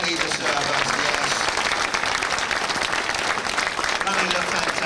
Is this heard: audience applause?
yes